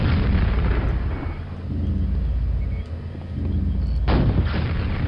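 Rocket blasts from the weapon in the video game Quake, heavy booming explosions in a loud continuous barrage with a fresh sharp burst near the end, no talk.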